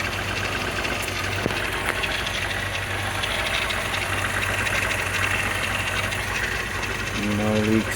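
A Volkswagen VR6 12-valve engine idles steadily just after its first start following maintenance repairs, a loud, close, even rumble with a slight rise in revs near the end.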